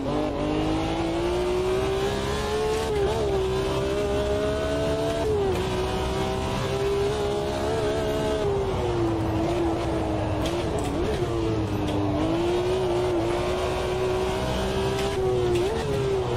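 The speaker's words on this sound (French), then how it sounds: "Ça glisse pas mal, hein, cette M1." A BMW M1 sports car with an H-pattern manual gearbox is driven hard on a track, its engine note holding a steady loud drone and shifting pitch as it slides through corners, continuous for the whole stretch.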